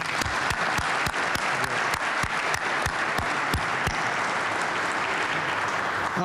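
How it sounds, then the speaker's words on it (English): An audience at an award reception applauds the mayor with sustained clapping, a few sharp claps ringing out close by over the wash of hands. "Please, another round of applause for our mayor."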